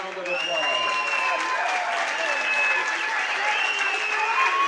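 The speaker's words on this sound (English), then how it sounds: "let's give both fighters a big round of applause." Sustained applause from a large crowd at a fight after three rounds, steady and loud throughout with some whistles and cheers mixed in.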